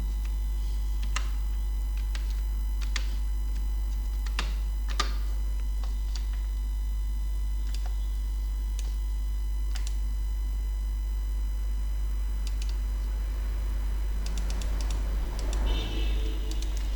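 Keys on a computer keyboard pressed in sparse, separate clicks while typing into a Word document, close and crisp over a steady electrical hum, with a brief rustle near the end.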